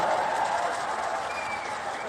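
Audience applause at a political rally in India welcoming MP Arvind Dharmapuri, a dense, sustained wash of many hands clapping that stays fairly loud throughout and tapers only slightly.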